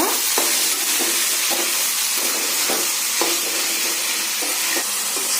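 Onions frying in oil in a pressure cooker for paneer pulao, a constant loud sizzle with regular scraping clicks of a spoon stirring every half second or so.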